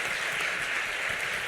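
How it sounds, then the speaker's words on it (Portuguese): Steady applause from a church congregation, a dense even patter of clapping at moderate distance, with no voices standing out. "E eu quero convidar, querido pastor Carlão, vamos aplaudir a vida desse homem de Deus."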